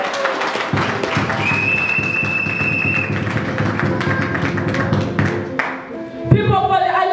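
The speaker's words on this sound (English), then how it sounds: "If you are there, can you clap for Jesus?" A church congregation claps for Jesus during a service: dense, sustained applause with voices in the mix, swelling and then ending in a short burst of louder activity.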